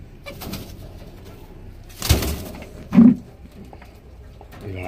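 Kaldoma pigeon pair cooing in a loft, with a brief low coo standing out amid quiet background and a couple of short noise bursts.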